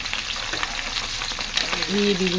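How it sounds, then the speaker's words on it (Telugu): Dried fish pieces fry in hot oil with a dense, continuous sizzle and crackle up close, and a faint voice enters briefly near the end. "ఫస్ట్ ఆయిల్లో ఎండు చేప ముక్కల్ని అయితే వేసేస్తున్నాను"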